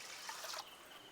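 Water is poured into a cooking pan for semiya and carrot, a faint splashing trickle for about half a second that then fades to a quiet hiss, with no one talking.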